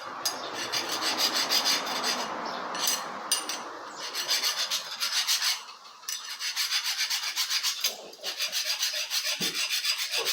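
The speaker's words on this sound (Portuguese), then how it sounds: "Isso aqui é aço. Estraga a lima." A metal file rasps against steel on a Stihl 038 chainsaw, with repeated rhythmic rough strokes, loud and close, briefly pausing and then resuming in quicker even passes.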